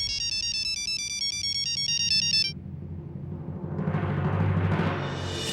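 A mobile phone rings with a bright, repeating electronic melody for about two and a half seconds, loud and close, before cutting off into a quiet room with a low murmur.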